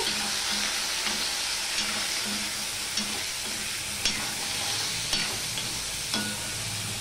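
Potato pieces frying in oil with salt and turmeric stirred in, a steady close sizzle broken by periodic scraping strokes of a spatula across the pan, with no talk.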